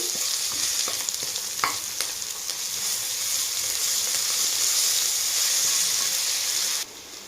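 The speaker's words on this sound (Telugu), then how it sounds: "అల్లం వెల్లుల్లి వేసుకొని కొంచెం వేయించుకోవాలండి అది పచ్చి స్మెల్ అంతా పోయేంత వరకు వేయించుకోవాలి" Ginger garlic paste sizzles steadily in hot oil in a pan for spinach rice, a dense, even frying hiss with a few soft stirring knocks, cutting off abruptly near the end.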